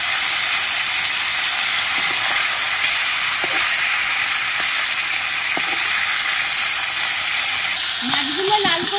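Rui and chara pona fish pieces fry in hot oil in a wok after being turned, a steady loud broadband sizzle throughout with faint clicks of handling and a brief voice near the end.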